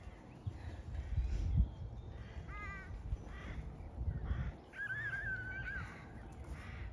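Crows in a flock caw repeatedly outdoors in the UK, several harsh calls at mid distance over wind and background rumble, with no speech.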